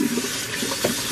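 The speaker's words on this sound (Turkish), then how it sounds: "Neyse elimi yıkıyorum artık." Water runs steadily from a tap into a bathroom sink as hands are washed, a brief close splashing hiss with no voices.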